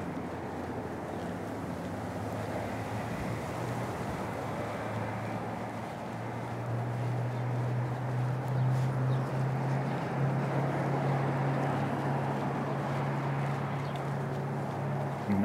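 Outdoor wind gusts during a city walk past a downtown hotel in Missoula, Montana, a steady broad rumble with low buffeting against the microphone that grows slightly stronger midway, with no speech over it.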